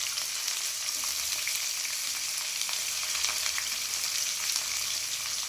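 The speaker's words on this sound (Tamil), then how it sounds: "இப்போ வெங்காயம், பச்சை மிளகா, கருவேப்பிலெல்லாம் போட்டுக்கிறோம்." Onion, green chili and curry leaves frying in hot oil, a dense continuous sizzle that stays even and close throughout, with small crackles popping through.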